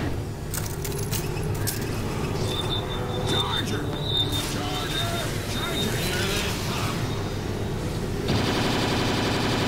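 Rapid gunfire in Left 4 Dead 2 rattles continuously under game noise, with dense bursts of shots and a louder stretch near the end, while players talk over it.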